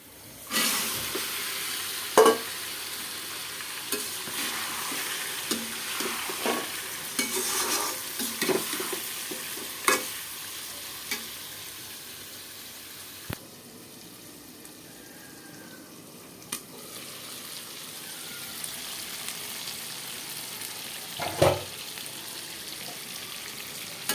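Marinated meat fries in a pan with browned onions and cumin, a continuous soft sizzle with scattered clinks and scrapes of stirring, fairly close and steady throughout.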